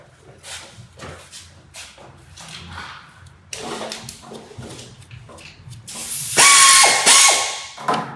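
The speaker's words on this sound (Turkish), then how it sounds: "Ardından havalı cırcırla bunları sıkacağız." A pneumatic air ratchet tightens the bolts on a car's AC compressor in a workshop: mechanical clicking and clattering at first, then a loud, close, sustained air-driven whir near the end.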